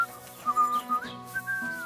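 A character in the medieval video game Kingdom Come: Deliverance 2 whistles a short, bright tune of several quick, sliding notes, close and fairly clear.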